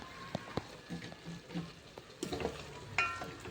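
Pork simmers in vinegar in a pan for dinuguan, a steady low sizzle and bubbling with a few sharp clinks and scrapes of stirring, close and fairly quiet with no talk.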